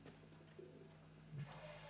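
Soft pigeon coos in the World War I shooter Battlefield 1, faint low hooting calls over a steady quiet game ambience with a slightly louder coo near the end.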